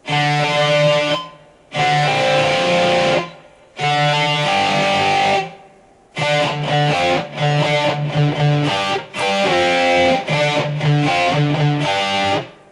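A distorted electric guitar plays a chugging 80s glam metal riff in open D tuning, in bursts, with brief pauses between phrases and then a longer run of rhythmic chords.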